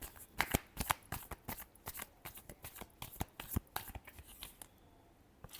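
Tarot cards are shuffled close by, quick crisp riffling and flicking in a continuous flurry of papery clicks, fairly quiet, with no voices.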